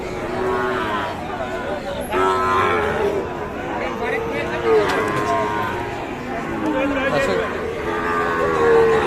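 Several Sahiwal bull calves low repeatedly in long, wavering moos, close by, over a steady background of crowd chatter at a busy cattle market.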